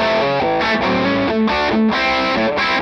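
Electric guitar with humbucker pickups played through a Victory V40 Deluxe amp on voice 2, preamp volume maxed and mid-kick engaged, giving a thick distorted tone; chords and riffs ring out loud and alone for about three seconds, with no talking.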